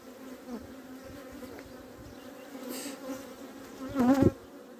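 Honey bees buzz steadily around a split hive being prepared for the honey flow, a continuous close drone that swells briefly louder near the end, with no talking.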